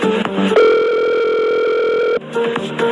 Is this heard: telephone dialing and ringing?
yes